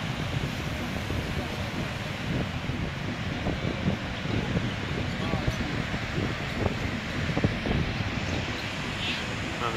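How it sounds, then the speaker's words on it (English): Large ocean waves break and surge steadily at Hawaii's North Shore near the Pipeline surf break, with a continuous broadband roar and wind buffeting the microphone throughout. "The pipeline just makes beautiful breaking, curling waves."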